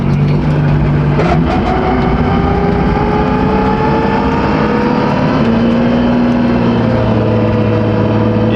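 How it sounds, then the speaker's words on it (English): A BMW M4 race car with a sequential transmission drives hard, heard from inside: a loud, continuous engine drone with rising and falling gear-change tones and whine throughout. "Yeah, I've never been in a car that sounds like this."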